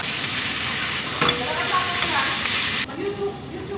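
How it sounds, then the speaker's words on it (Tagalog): Garlic, onion and mixed vegetables sautéing in hot oil in a pan, a steady loud sizzle with stirring sounds that drops off sharply near the end. "Gisa natin yung bawang, sibuyas. Lagay natin yung gulay."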